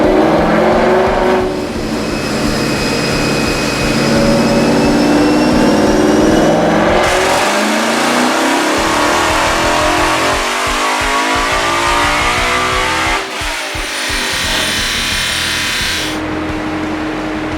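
A 2018 Roush Coyote V8 running an octane booster roars at full load through dyno pulls, loud and continuous, with the pitch sweeping upward, dropping and climbing again through shifts of a six-speed car.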